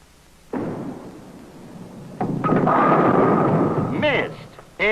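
A candlepin bowling ball rumbles down the alley and crashes into the pins with a loud, sustained clatter, followed by a few sharp knocks and a final bang.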